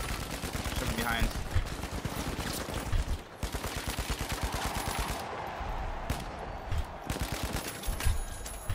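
Rapid automatic gunfire from The Finals video game, dense bursts of shots running almost continuously at close range, with brief pauses and a voice speaking over the shooting.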